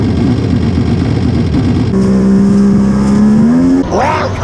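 Engine of a Wave Blaster triple-swap personal watercraft running loud and steady, with a rising rev tone in the middle before it drops off near the end; no talk over it.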